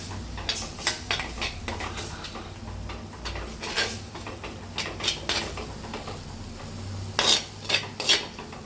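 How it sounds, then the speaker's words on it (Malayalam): A spoon stirs masala frying in oil for a Kerala fish curry, with irregular scraping and clinking strokes against the pan over a soft low sizzle. It is fairly quiet and close, with a cluster of sharper scrapes near the end. "മിക്സ് ചെയ്യാം."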